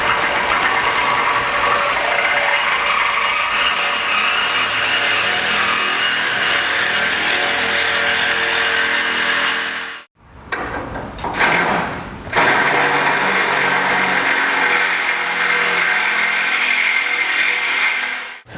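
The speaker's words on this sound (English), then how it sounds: "when you cut that with a Sawzall that you can see you're cutting straight down the frame" A Sawzall reciprocating saw cuts down the frame of a 1963-72 Chevy or GMC truck during a longbed-to-shortbed conversion, a loud continuous buzzing rasp that breaks off near the middle, restarts in short bursts, then runs steadily again.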